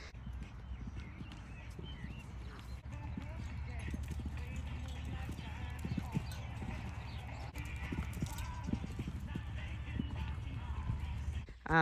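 A warmblood sport horse, a show jumper, clip-clops at an easy pace, its steady hoofbeats close by under continuous talking.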